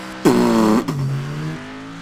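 A Next Car Game car engine revs up sharply, holds a high whine, then drops to a lower steady drone that fades away, loud and close with no talking over it.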